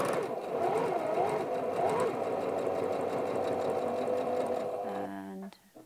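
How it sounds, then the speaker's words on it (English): Sewing machine stitching fabric for a wallet, a close continuous mechanical whir for about five seconds that winds down at the end, with a voice talking over it. "what I'm actually going to be doing is sewing to this point on my fabric where the top stitching meets the first flap"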